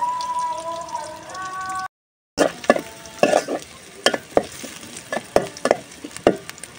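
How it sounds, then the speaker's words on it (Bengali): Onions frying in a pan while a spoon stirs and scrapes them, a soft steady sizzle broken by sharp rhythmic scraping knocks close by, after a brief tonal hum and a short gap. "পেঁয়াজটা ভাজা হয়ে গেছে,"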